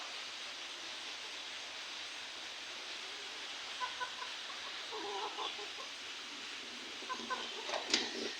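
Scattered hen clucks rise in the second half over a steady background hiss, with a sharper burst of clucking near the end; no talking.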